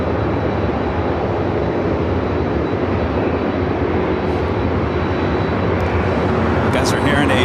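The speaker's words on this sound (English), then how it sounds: "You guys are hearing a Delta 767-400ER" A Delta Boeing 767-400ER jet airliner heading for runway 24 Left at Los Angeles International Airport produces a constant, loud broadband engine roar throughout.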